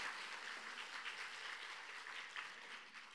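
Warm applause from an audience at a regional rural women's association awards ceremony, an even wash of many hands clapping, fairly faint and distant, continuing without pause.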